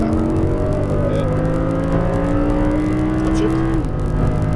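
An Audi R8 V10 accelerating at full power on a race track, its engine climbing steadily in pitch with loud, continuous roar and a shift near the end, heard close from inside the car.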